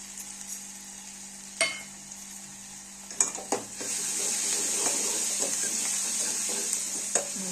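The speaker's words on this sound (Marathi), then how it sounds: "आता ही लसूण आणि कोथिंबीर बारीक केलेली टाकूया." Finely chopped garlic and coriander hitting reddish-brown fried onion in hot oil, with a steady sizzle swelling after the additions and a few sharp spoon scrapes and clanks against the pan, close and without talk.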